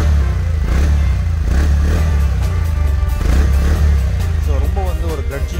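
A TVS Ntorq 125 Race Edition scooter idling and revving nearby, a loud low engine thrum with rising throttle blips and light mechanical clatter, someone talking over it.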